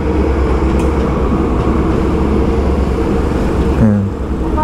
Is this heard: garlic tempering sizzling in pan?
no